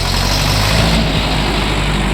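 Orion RF404 tractor engine idling with a steady, loud low rumble and constant drone throughout, no voices.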